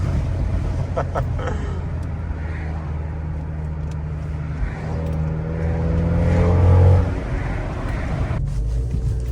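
A turbocharged 10th-generation Honda Accord accelerates up close, its engine drone building to a louder intake and turbo rush before easing off, with wind noise throughout.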